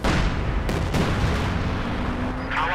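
A howitzer fires point blank during a Company of Heroes 2 match, a loud, close, booming blast that rolls into sustained rumbling, with further sharp reports and battle noise.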